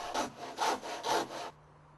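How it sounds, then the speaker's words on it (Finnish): Three steady back-and-forth strokes of a handsaw cutting off the excess ends of wooden wall studs, close and alone, then stopping. "Sahaa vielä lopuksi ylimääräiset pois pystytolppien päästä."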